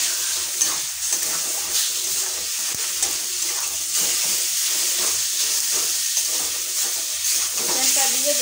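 Minced chicken stirred and fried in a pan with salt, giving a steady broadband sizzle and hiss with scraping stir strokes throughout, fairly close and continuous, no talking.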